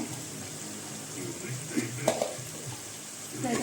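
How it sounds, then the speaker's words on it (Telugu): A ragi sankati chicken curry sizzles in a pan while a spoon stirs through it, soft scraping clinks over a steady low frying hiss, with a couple of sharper knocks midway. "మొత్తం బాగా కలుపుతుంది"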